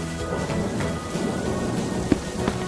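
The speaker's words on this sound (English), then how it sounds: "It's raining, and Peppa spots her rainbow umbrella" Rain falls in a Peppa Pig animated cartoon: a steady close patter with a few sharper drops, over faint tonal background sound and no talking.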